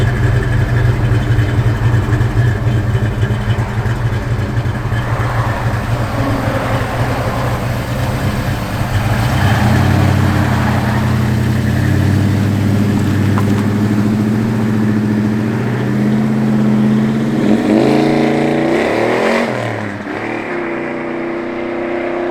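A 1965 Mercury Comet engine runs close by, a low, steady idle with the pitch rising and falling as it revs, then settling back toward the end; no talking.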